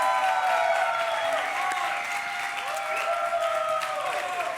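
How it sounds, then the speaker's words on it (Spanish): Studio audience applause, a steady wash of clapping under sustained music tones, with some voices mixed in. "pido un fuerte aplauso també"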